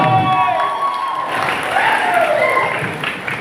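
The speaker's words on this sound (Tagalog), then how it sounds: "Isang palakas na palakpak!" A crowd at a gathering for Atty. Vic Rodriguez claps and cheers, with high shouts and whoops rising over a steady bed of applause, fairly close and loud throughout.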